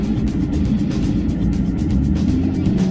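The engine of a Maserati MC Stradale, a loud, steady, deep drone held at a constant pitch with a low rumbling roar and no talk.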